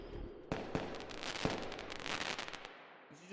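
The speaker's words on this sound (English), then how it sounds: "She just bombed the entire place." Bomb explosions set off by Jinx sound as sharp cracking bangs, several distinct hits followed by a crackling roar that fades out, with no voices.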